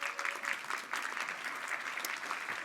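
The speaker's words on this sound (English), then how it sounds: "let's welcome each one of them with a big round of applause" An audience at a European Commission policy event, the FI Campus 2025, gives a sustained round of applause that welcomes a speaker, with steady dense clapping filling the whole stretch and no speech over it.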